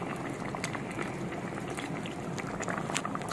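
Beef kaldereta stew bubbles steadily in a pot, a continuous close simmering hiss with small popping bursts throughout.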